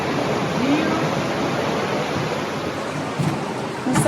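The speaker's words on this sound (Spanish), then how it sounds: "se escucha todo el ruido del río" A river rushes near a mountain lodging close to Machu Picchu, Peru, as a steady, dense, broadband roar that runs unbroken for the whole stretch.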